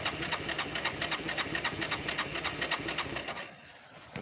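A four-wheeler engine cranks over in a fast, even rhythm of pulses for about three and a half seconds, close and fairly loud, then stops without catching, leaving quiet.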